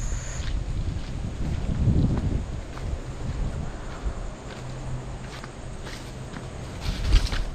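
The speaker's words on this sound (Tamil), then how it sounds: "பயங்கரமான காற்றடிக்குதுங்க" Strong wind blows outdoors with a steady roar and low rumbling buffeting against the microphone, plus occasional faint thuds and rustles.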